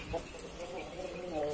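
A rooster in a chicken coop gives soft, close clucks over a brief moment while someone talks nearby.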